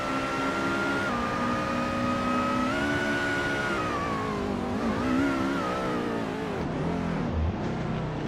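Race car engines in a racing video game drone steadily and loud, including a 2023 Peugeot 206 RC, with pitch rising and dipping as cars accelerate and shift, continuous throughout.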